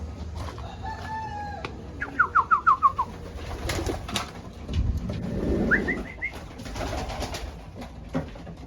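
Pigeons coo in a small loft flock, with soft repeated coos near and far alongside other bird calls and a bit of rustling.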